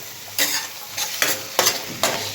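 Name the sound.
stirring pav bhaji in a pan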